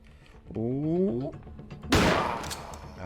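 Gunfire erupts in the video game Granny Recaptured on hard mode: a sudden loud, harsh burst of shots near the end, after a stretch where someone speaks with a rising, excited voice.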